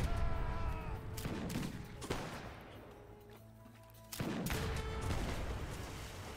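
Outlaws fire pistols and rifles at a huge wooden warship in the Age of Empires 3 video game, a dense rattle of overlapping shots that fades briefly and then resumes at full volume, with no voices.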